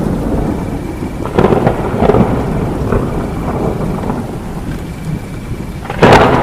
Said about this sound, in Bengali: তখনই উঠল ভীষণ ঝড়